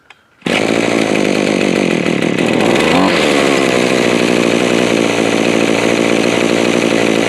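A gas-powered grass trimmer engine, run on a general two-stroke mix and started cold for the first time of the year, catches after a brief pull and then runs loud and steady at a high idle, with a small pitch shift near the middle.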